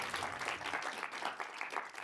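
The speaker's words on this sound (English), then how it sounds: "please give applause to him" Audience applause at a panel discussion on African documentary film, a faint, steady patter of many hands clapping in a hall, heard from a distance and continuing without voices.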